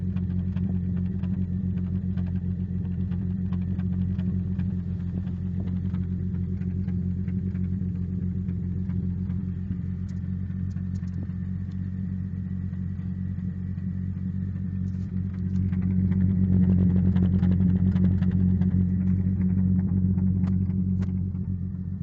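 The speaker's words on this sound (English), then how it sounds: "So I decided to have a stainless steel one fitted, and it sounds really nice." A 1949 Dodge engine with a newly fitted stainless steel exhaust idles steadily with a deep, even low rumble, then swells a little louder near the end, alone with no talk.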